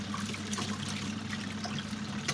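Water trickling and dribbling steadily out of a mini washing machine inside a full-time motorhome, a continuous close, soft liquid sound with no talking.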